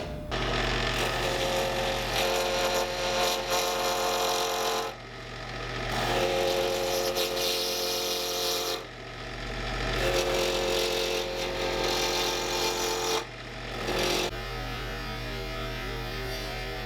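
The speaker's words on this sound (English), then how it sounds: "So this is the first time I've turned Alumite. It actually cuts really easy." Steady mechanical whir of a lathe turning an Alumilite pen blank on bushings, a loud continuous hum and rattle that briefly dips and restarts a few times, with no talking.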